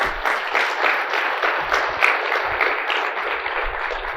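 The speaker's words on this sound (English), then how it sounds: "A round of applause for the guts that these guys showed." Audience applause at a mortgage-business technology event, a steady wash of many hands clapping close and loud for the full stretch without pause or talk.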